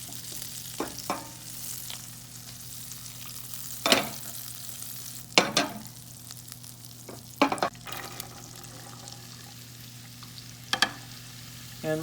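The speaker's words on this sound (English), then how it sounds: "we're going to add the celery and onions and carrots into that pan once the butter melts" Celery, onions and carrots stirred in melted butter in a pan on a medium stove for shepherd's pie, a soft steady sizzle with several sharp utensil scrapes and clacks, close by, no talking.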